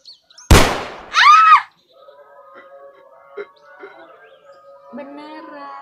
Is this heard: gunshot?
yes